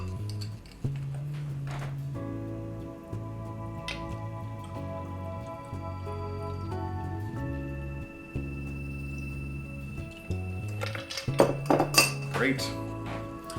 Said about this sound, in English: Let's give it a stir. And then let's strain this into my absolute abomination of a glass here.